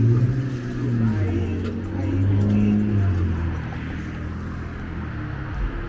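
A car drives north along Delaware past a school speed camera, its engine a steady low rumble with tyre and road noise that swells briefly mid-way, heard from inside the vehicle without talk.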